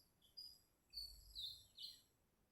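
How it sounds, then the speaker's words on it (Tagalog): Birds chirp and sing beside a bamboo grove in the rural province, several thin high calls in quick succession, faint and somewhat distant over quiet background. "narinig niyo ba yung mga huni ng ibon?"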